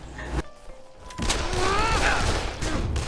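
A pistol in the video game Dead Island fires two sharp shots about a second apart, followed by a wavering, rising voice cry over a steady background rumble.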